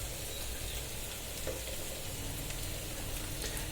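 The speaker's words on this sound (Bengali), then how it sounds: "তেল গরম হয়ে আসছে" Oil heats in a kadai on the stove, ready for a prawn and taro-stolon curry, giving a steady, close, continuous sizzle with no voices over it.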